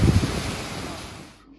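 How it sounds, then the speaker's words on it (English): A waterfall in Iceland's West Fjords, heard from near its top, makes a broad rushing hiss of falling water, loudest at first and then quickly fading out over less than two seconds. "This must be the top of the waterfall we were looking at from below."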